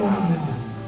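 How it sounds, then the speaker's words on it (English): A tiger at a zoo lets out a low, rumbling roar, brief and fairly loud, with a faint voice nearby. "That's the tiger."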